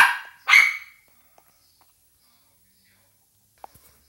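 Two sharp barks from a neighbourhood dog ring out close by at the start, followed by near silence and a few faint clicks.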